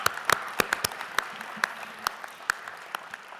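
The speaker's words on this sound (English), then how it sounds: "Please give them a round of applause." Audience applause for joint second prize winners at an event, a steady wash of hand claps with sharp individual claps standing out, moderately distant and fairly quiet, with no talking over it.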